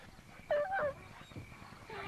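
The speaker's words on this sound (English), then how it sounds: "I could hear Duke kind of whimpering" An injured police German shepherd gives a couple of short, high whimpers, faint and close, over a quiet background.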